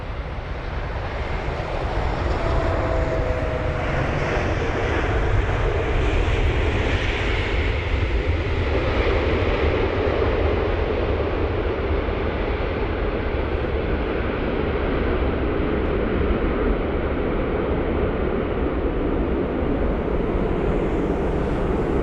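A Singapore Airlines airliner arrives on runway 27 right at London Heathrow, its jet engines a steady, loud, broad roar with a faint whine early on, continuous throughout and without voices.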